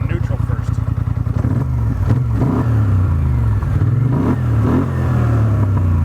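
Polaris Sportsman XP 1000 High Lifter Edition ATV engine in neutral, a rapid throbbing idle that rises into sustained loud revving, close and continuous with no talk.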